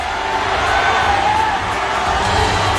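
Basketball arena crowd at a San Juan versus Nueva Ecija MPBL game, a steady loud roar of cheering and whooping that fills the whole moment, with no pause or lull.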